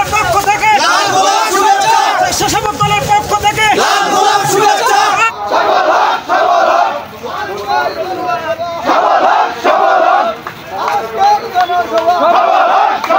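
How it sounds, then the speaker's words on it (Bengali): BNP party activists with paddy-sheaf symbols gather at a union-level rally in Domar, Bangladesh, chanting slogans in loud, rhythmic crowd bursts that swell and fall over continuous babble. "নেতাকর্মীগণ বিভিন্ন স্লোগান দিয়ে দলীয় প্রতীক ধানের শীষ হাতে সভাস্থলে জড়ো হয়"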